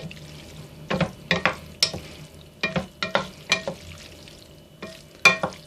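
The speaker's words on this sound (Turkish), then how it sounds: "Tamam güzelce karıştırdım." Boiled manti dumplings tossed with oil in a bowl, giving a series of sticky, wet stirring and squelching strokes in irregular bursts, close and fairly quiet, with no talking.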